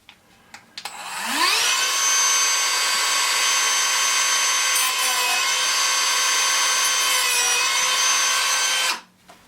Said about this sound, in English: Now let's get the Dremel.